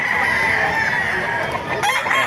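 Roosters crow over a steady background of hens clucking at a pet market in Bocaue, with a dense, lively barnyard chorus throughout.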